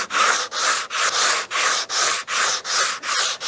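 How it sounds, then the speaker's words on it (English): Wooden entry door sanded by hand with 80 grit sandpaper on a flat sanding block, loud steady back-and-forth rasping strokes in a regular rhythm, about two per second, with no talk. "80 grit sandpaper, and you just sand and sand."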